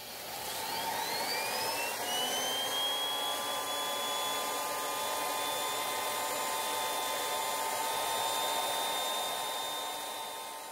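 3D-printed turbocharger spinning at high speed, a loud sustained turbine whine with rising then steady high-pitched tones over a broad rushing airflow roar, continuous throughout with no talk.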